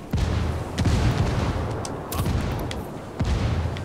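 Mortar rounds slam down in Ghost Recon Wildlands, a string of heavy booming impacts at roughly even intervals, loud and rumbling with dense low-end blasts and no talk over them.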